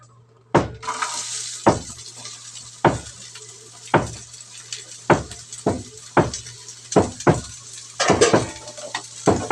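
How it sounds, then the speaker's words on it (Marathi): Onion frying in a few spoons of oil, with sharp clanks of a spoon against the pan recurring every second or so over a soft sizzle. "2 ते 3 चम्मच तेल टाकायचं. तर कांदा पण भाजून घ्या."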